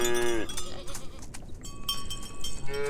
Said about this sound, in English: And then the other one was a sheep. I think it was Hampshire sheep.